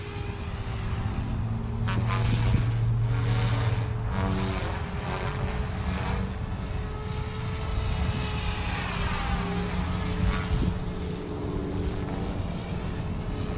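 An RC helicopter, an OMP Hobby M4 or Goosky RS4 Venom, flies forward with a steady rotor and motor drone, loud and continuous throughout, with tonal whine and fluttering blade noise.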